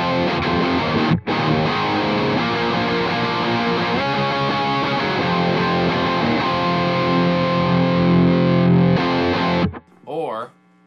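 An electric guitar plays heavily distorted chords and riffs through a Legacy Drive preamp pedal with a closed-back 2x12 cabinet simulation, loud and sustained, cutting off near the end before a brief voice.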